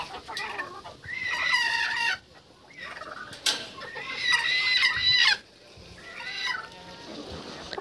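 Broody hens and chickens cluck and squawk in a farm yard, giving several loud, close bursts of agitated calls separated by brief quieter lulls.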